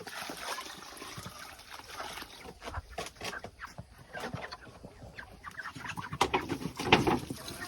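Broiler chickens cluck and chirp in a poultry shed, a busy layered flock sound with scattered louder calls and some trickling water, steady throughout with no talk.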